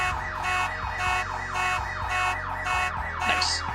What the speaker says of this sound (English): the obnoxious sound of a car alarm going off